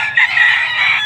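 A rooster crows loudly and close by in one sustained, strained call at a chicken market in Padre Garcia, Batangas, with no other sounds around it.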